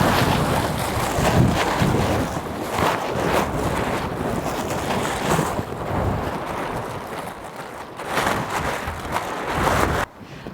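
Strong wind gusting outdoors in the African bush, buffeting the microphone with loud, uneven roaring bursts that rise and fall over ten seconds, heard alone without talk.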